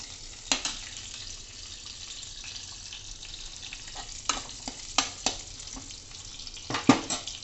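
Onions frying in about two spoonfuls of ghee in a pan for dal makhani gravy: a steady soft sizzle runs throughout, punctuated by several sharp clinks and scrapes of a utensil against the pan.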